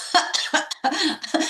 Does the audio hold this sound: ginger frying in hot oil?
no